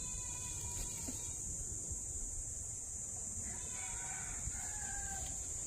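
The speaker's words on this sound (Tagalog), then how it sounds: "Ito yung mga manok namin" Chickens cluck and a rooster crows faintly amid steady outdoor ambience and a high insect-like hum.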